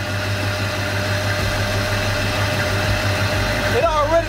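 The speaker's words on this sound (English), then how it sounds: "It already sounds like it's idling so much smoother than it did before." A Chevy C10 truck V8 idles steadily after first start with a newly fitted Edelbrock AVS2 carburetor, following seven years of sitting; a loud, low, even rumble continues as a voice comes in near the end.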